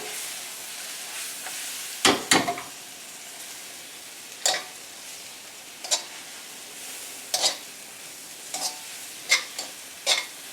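Shiitake mushrooms in oil in a pan give a faint, steady sizzle, broken by about ten sharp clacks and scrapes of a utensil stirring, spaced irregularly over the quiet frying.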